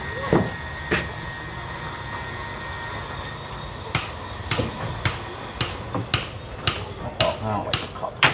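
Repeated hammer strikes pounding nails at a Thai building site, rushing before rain: two early blows, then a steady run of sharp, loud knocks roughly every half second over background hum.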